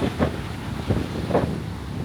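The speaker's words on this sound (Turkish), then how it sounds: "Ama maalesef hava çok kötü, rüzgarlı." Strong gusty wind buffeting the microphone at Surin or Freedom Beach in Phuket on a rough day with heavy surf, a dense roaring rumble with no voices.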